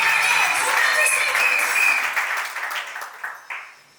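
Guests at a civil wedding ceremony break into loud applause that rings out strongly at first, then thins and tapers away into scattered claps as the clapping dies down.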